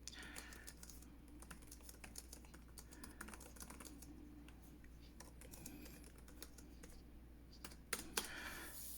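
Typing on a Logitech keyboard case for an iPad Pro, a quick run of light clicky keystrokes in irregular bursts, close and fairly soft over a low steady hum.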